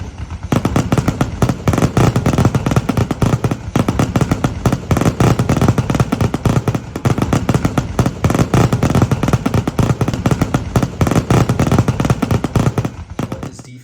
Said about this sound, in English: the sound of the fireworks ramping up in speed and ferocity was the perfect tool for driving